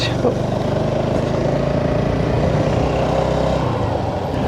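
Motorbike engine droning steadily while riding along a village road near Dhaka's 300 Feet area, a continuous close hum with light wind and no clear talk.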